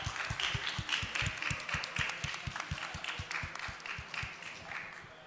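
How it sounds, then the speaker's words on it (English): A small audience at a game conference claps for a presenter, a moderate patter of individual hand claps with a distinct rhythm, some louder claps standing out near the listener, gradually thinning toward the end. "let's give Marcus a round of applause"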